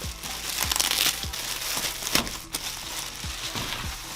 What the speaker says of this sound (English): Comes wrapped in a plastic bag, of course.